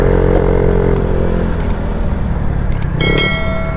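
Dense road traffic with many vehicles, a Kawasaki ZX25R motorcycle among them, forms a steady loud wash of engines and rumble, with a few brief high metallic tones and a faint bell-like ring partway through.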